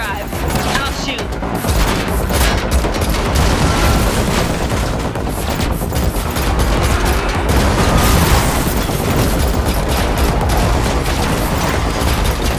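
Rapid gunfire crackles through a car chase in The Matrix Awakens, Unreal Engine 5 demo, with dense overlapping shots, booms and mechanical clatter over a steady roar, while voices speak now and then.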